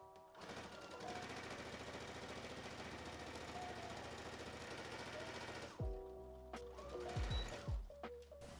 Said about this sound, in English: I'm just going to sew straight across it.